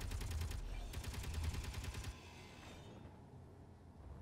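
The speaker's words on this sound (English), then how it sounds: "it's shooting at the constructor" Turret gunfire in the Space Engineers video game, with rapid automatic bursts rattling loudly for about two seconds, then a lower mechanical rumble trailing off.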